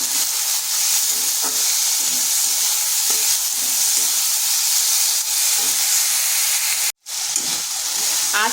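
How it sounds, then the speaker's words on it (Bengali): Potatoes seasoned with salt and turmeric stir-fry in a pan over low heat, giving a steady close sizzle with soft scraping from stirring and a brief cut near the end. "আঁচটাকে স্লো করে আলুটাকে এইভাবে নেড়ে চেড়ে হালকা ভাজা ভাজা করে নিতে হবে"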